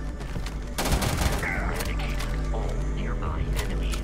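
Bursts of gunfire in the video game Starfield, dense and close, with sharp rapid cracks, while people talk over the shooting.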